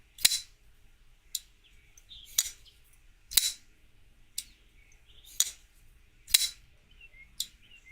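About eight crisp metallic snaps of a J-Cape folding knife opening and closing, spaced roughly a second apart, each ringing briefly, with soft birdsong faintly in the background.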